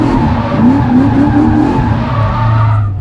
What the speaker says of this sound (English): We're going dirt drifting.